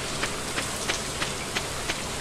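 Steady rain from the Stardew Valley video game forms a dense hiss, with soft, evenly spaced ticks recurring several times a second and no talking.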